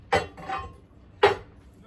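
Ceramic spoon rests clinking as they come out of a kiln, three sharp close knocks, two near the start and one near the end.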